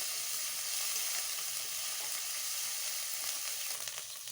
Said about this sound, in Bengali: পেঁয়াজ রসুনটাকে একটু ভালো করে ভেজে নেব